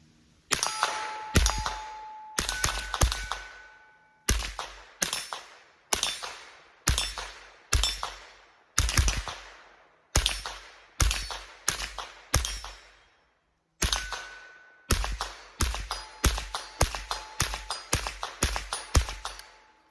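Rapid .22 LR rifle shots from an AR fitted with a CMMG conversion kit at an outdoor range, sharp cracks fired in quick strings with short pauses between bursts, each ringing briefly.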